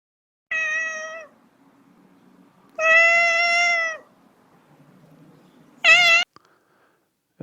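Pet cat Sass meowing in a car, three distinct loud drawn-out meows separated by pauses, the last one higher and wavering, with a faint low rumble between them.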